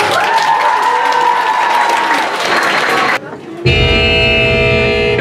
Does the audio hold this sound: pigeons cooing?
no